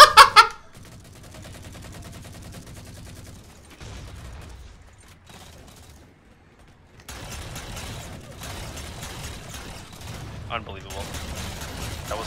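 Shotgun fire in a Halo 4 free-for-all multiplayer match: a sharp, loud blast opens, followed by lower rumbling game noise and a denser, crackling stretch of action later on.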